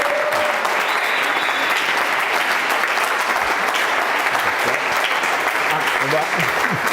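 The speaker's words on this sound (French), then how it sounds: "Sous vos acclamations, accueillons ici le pasteur Jean-Claude Boulacho." A church audience applauds steadily and loudly in welcome for a pastor, the clapping dense and continuous throughout, with faint voices mixed in.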